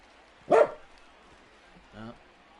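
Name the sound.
dog barking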